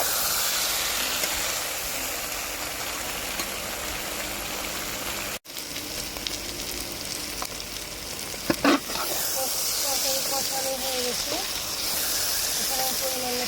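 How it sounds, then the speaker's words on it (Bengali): Soya chunks sizzle and fry steadily in a pan as a spoon stirs them, with a few louder scrapes and clinks partway through and a hissing background throughout. "এগুলো আবার ভালো করে কষে নেবো আমি"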